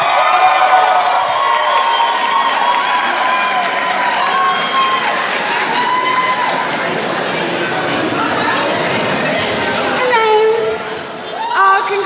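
Wedding guests at a London reception cheer, whoop and applaud for a singer, a loud, continuous crowd roar with shouting voices that swells and then briefly dips near the end.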